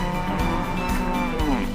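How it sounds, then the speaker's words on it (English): A cow lows in one steady, close moo lasting under two seconds, with nothing else heard. "This is a cow."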